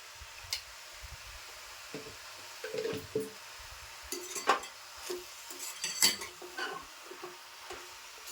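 A utensil stirs salted methi greens in a pan, making intermittent metallic scrapes and clinks over a faint background sizzle, with quiet gaps between the strokes.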